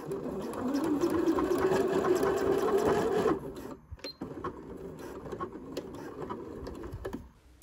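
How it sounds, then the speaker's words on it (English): A sewing machine runs a steady zigzag stitch along the fabric edges of a handmade scrunchie, humming loudly and close, then stops partway through and gives way to quieter handling noises. "do a zigzag stitch along the edges to make it extra secure"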